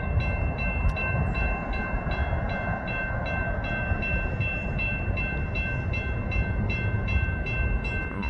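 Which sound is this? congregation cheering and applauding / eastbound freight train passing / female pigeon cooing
eastbound freight train passing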